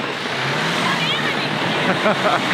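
A lorry engine rumbles nearby in street traffic, a steady mid-pitched drone that swells slightly as it passes.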